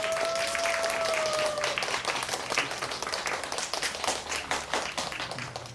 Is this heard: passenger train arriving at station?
no